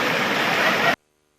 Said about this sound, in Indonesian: Meluncur bebas menuruni bebatuan dengan air yang mengalir deras di kaki Gunung Rinjani begitu menyenangkan.